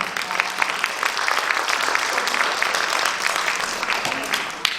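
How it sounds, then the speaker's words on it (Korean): An audience at a military recruit completion ceremony applauds to welcome a volunteer group, a dense, continuous wash of many hands clapping at a steady level for several seconds. "박수로 맞아주시기 바랍니다"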